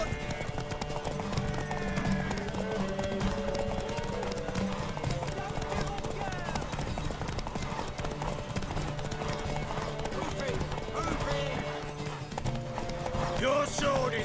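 Galloping hooves in The Witcher 3 near Oxenfurt, a fast continuous clip-clop with occasional neighing, mixed with game voices and background music.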